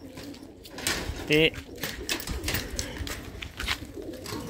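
Pigeons coo inside mesh-walled lofts, low steady burbling close by, with someone speaking briefly over it.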